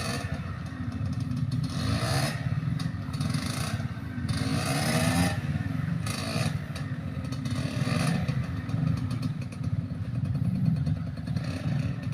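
An enduro motorcycle engine running steadily with surging revs, a rough, buzzing drone close by that rises and falls over about twelve seconds, mixed with some clattering.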